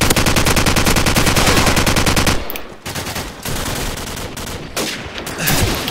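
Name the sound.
AK47 gunfire in the video game Call of Duty 4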